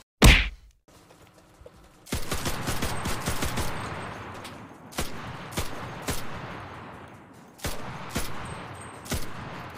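Loud bursts of video game gunfire crack in rapid, sharp volleys after a brief quieter opening, the clustered shots repeating in waves.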